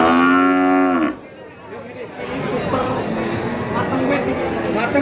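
Cattle at a livestock market in Tuban give one loud, drawn-out moo close by, followed by a steady hubbub of crowd chatter and market noise.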